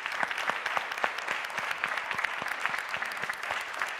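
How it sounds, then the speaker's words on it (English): Audience applause at the Danube Salon of the Europa-Forum Wachau 2021, a steady round of many hands clapping that fills the hall evenly for the whole stretch, close and moderately loud with no voices over it. "So a big round of applause again."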